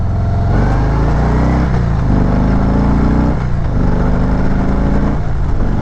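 A 2020 Harley-Davidson Heritage Classic with the 107 engine accelerates through its gears, its loud, close engine note rising steadily in pitch, dropping at each shift, then climbing again, with no talking.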